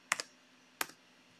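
Fingers tap a computer keyboard in two brief bursts of clicks, close and quiet, in an otherwise silent room.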